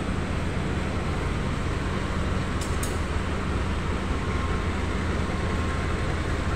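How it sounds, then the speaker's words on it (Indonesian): Penataran passenger train departing Surabaya Gubeng station, a steady loud rumble of rolling stock and wheels on rail filling the whole stretch, with a brief high squeal near the middle. "Penataran dari Militerat Malang diberangkatkan kembali dari jalur 2 stasiun Surabaya Gubeng menuju ke stasiun Surabaya Kota atau Surabaya Semut"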